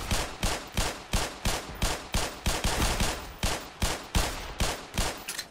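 Video game gunfire in Black Mesa: a fast, steady run of loud, punchy shots at about three per second, continuing without pause and with no talking.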